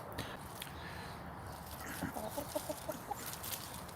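Chickens cluck at a UK allotment in winter, giving a short run of soft, rhythmic clucks at mid-distance under continuous background rustle.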